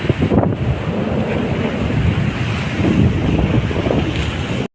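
Strong wind roars continuously against the microphone, a loud steady rumble with gusty fluctuations and no talking.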